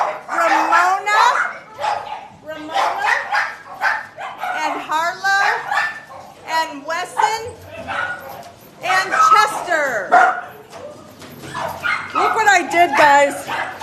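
Several rescue dogs bark and yip excitedly in rapid bursts at a dog rescue, close and loud, with some whimpering mixed in.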